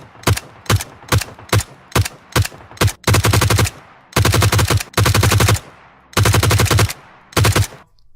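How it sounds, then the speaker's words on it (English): Suppressed G36C rifle fire in PUBG Mobile: a run of single shots followed by several sustained full-auto bursts, close, sharp and loud, with no talk. "here you have the sound effects of this weapon with a suppressor on"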